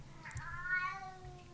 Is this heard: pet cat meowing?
yes